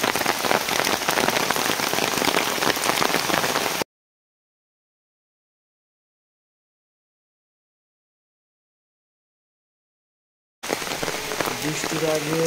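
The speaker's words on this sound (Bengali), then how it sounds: "ফাল্গুনের শুরুতে বৃষ্টি শুরু হয়ে গেছে" Rain at the start of Falgun pours down onto surfaces in a dense, steady patter, cutting out to silence for several seconds before returning just as heavy.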